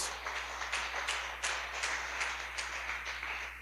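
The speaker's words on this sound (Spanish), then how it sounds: "Fuerte ese aplauso a Dios" A church congregation claps in praise during a sermon, a steady patter of many hands with a few sharper individual claps standing out, moderately distant and not very loud, with no voices over it.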